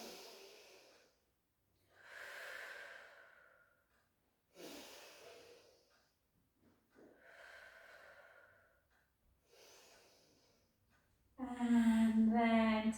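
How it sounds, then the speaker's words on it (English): Deep breaths in and out during a Pilates exercise come close and audible in slow, separate waves, followed by a brief louder voiced sound at the end. "Take a breath in."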